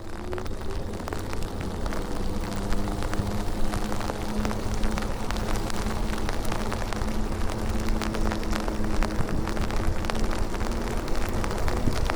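Rain falling during an e-bike ride, a steady dense patter and hiss with road and wind noise and a low motor hum running continuously underneath.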